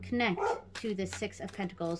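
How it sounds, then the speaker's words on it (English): A dog barks in short, sharp bursts near the start, mixed with a person talking steadily indoors over a low hum. "Sorry about my dog. She's barking at something."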